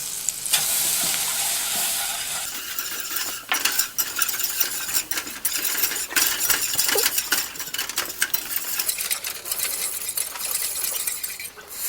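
Butter and flour cook over medium heat in a pan, with a continuous bright sizzle and frequent metallic stirring scrapes and clinks close up, heard alone without talk.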